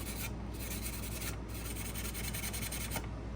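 Light hand sanding across the painted metal surface of an old red rusty toy tractor, a soft continuous scratchy rubbing with quick repeated strokes, close and fairly quiet.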